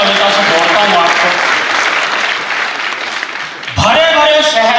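Audience applause at a Hindi comedy poetry gathering (hasya kavi sammelan), a dense, loud wash of clapping filling most of the clip, easing briefly before a voice speaks over the final second.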